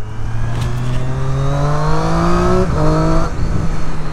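A 2022 Triumph Street Triple RS motorcycle with quick shifter accelerates hard, the engine note rising steadily through gears with a quick shift partway through, loud and close.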